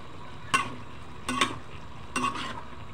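Pork and tomatoes are stirred in a pan for kinamatisang baboy, with three separate scraping, clinking strokes over a faint, low sizzle.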